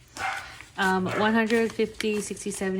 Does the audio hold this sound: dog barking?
yes